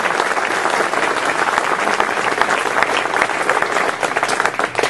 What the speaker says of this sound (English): let's give them, the young brothers, a round of applause